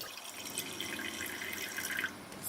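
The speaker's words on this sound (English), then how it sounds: "I will put a bit of water in the pot." Water poured into a cooking pot for a butterfly pea flower drink, a steady splashing trickle at close range with bright dripping accents, no voices.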